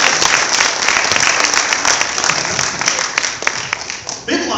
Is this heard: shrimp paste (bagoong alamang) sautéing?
no